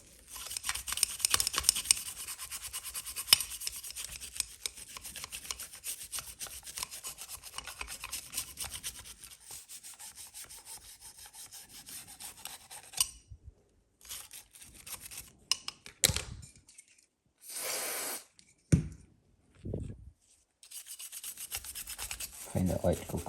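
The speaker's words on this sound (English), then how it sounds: "We're just going to give it a good clean, get rid of this accumulated crap off it." Stripped Telecaster bridge from a Made-in-Japan guitar being scrubbed clean of built-up grime, a steady close rasping rub that thins out, then turns to short scattered scrubbing bursts with pauses near the end.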